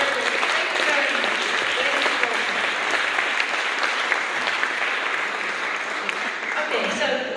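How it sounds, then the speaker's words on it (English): Audience applause at a talk gathering, dense continuous clapping at steady volume through the whole stretch, with faint voices underneath. "Ah, applause! Applause!"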